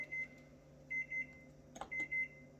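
A microwave oven beeps as its timer ends: three bursts of short, evenly spaced electronic beeps, each group quick and clipped, with a soft clunk between them over a low appliance hum.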